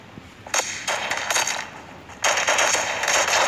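Bursts of rapid video game gunfire in Kuboom, loud, crackly shots coming in several rapid volleys, with the last burst running on to the end.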